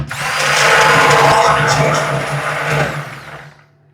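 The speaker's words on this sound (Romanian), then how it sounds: "continui să dau cu blenderul" A blender whirs loudly for about three seconds, its motor straining through thick cake batter with added water, then winds down and stops.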